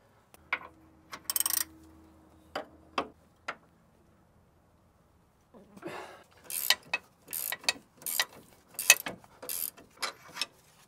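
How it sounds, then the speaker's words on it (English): A wrench and socket work the upper control arm bolts on a 2019-2025 Chevrolet Silverado, giving scattered metallic ratchet clicks and clanks, a few sharp taps early, then a denser run of close, crisp clicking after a quiet pause. "Take a wrench and a socket and at the same time loosen the bolt, and repeat this on both sides."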